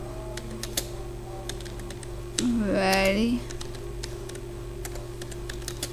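Someone types on a computer keyboard during a typing test. Soft, scattered key clicks tap at an uneven pace over a steady hum, with a short spoken word in the middle.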